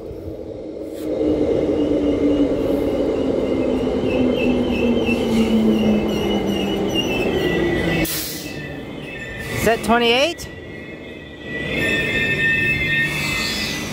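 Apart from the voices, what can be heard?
A-series train arriving on platform 4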